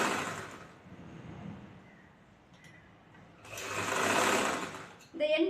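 Sewing machine stitching folded chudithar cloth over canvas, running in two steady whirring bursts with a pause between, close up, while someone speaks over it.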